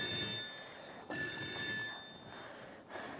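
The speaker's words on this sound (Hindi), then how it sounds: "अरे कपूर, अरे फोन उठा ले बेटे" Telephone ringing in a stage play, a faint electronic ring repeating in short bursts against low room noise, with no one speaking.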